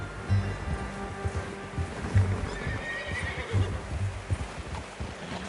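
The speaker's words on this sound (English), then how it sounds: "How's that new horse?" A horse in the video game Red Dead Redemption 2 neighs and whinnies several times while its hooves clip-clop steadily underneath, close and clear, with no speech.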